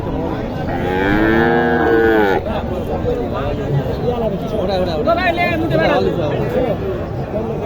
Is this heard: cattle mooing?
yes